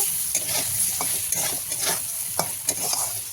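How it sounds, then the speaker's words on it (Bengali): Spice paste of turmeric, chili powder, salt and green chilies sautéing in a pan for a Bengali fish curry with potatoes, a steady sizzle broken by scraping stirs of a spoon, close and fairly loud with no talk. "মশলাটাকে ভালো করে কষিয়ে নেব"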